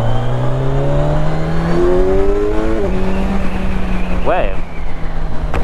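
A Kawasaki Ninja 1100 SX motorcycle engine revs loud and close, its steady drone stepping up in pitch through the gears, with a brief quick rise near the end, while a rider speaks briefly over it.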